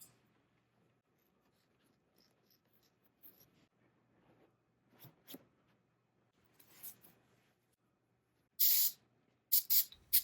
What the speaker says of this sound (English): I spray both the hole and the patch piece with upholstery adhesive.